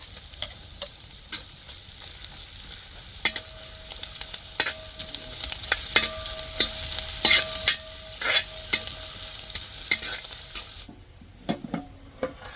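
Garlic paste frying in a pan for a clam and tapioca dish, a steady close sizzle broken by frequent clicks and scrapes of stirring, with a quieter stretch at the end.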